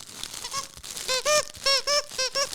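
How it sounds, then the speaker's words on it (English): A squeaky, crinkly pet toy shaped like a Dunks sneaker gives several rapid high-pitched squeaks in short bursts over a soft crinkling rustle, close up with no talking. "And it squeaks and crinkles."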